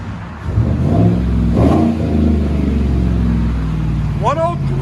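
A 2015 Chevy Silverado 5.3L V8 with a dual exhaust running Flowmaster Flow FX mufflers revs up with a deep, loud rumble that swells and then settles back, with a voice speaking over the engine at the start.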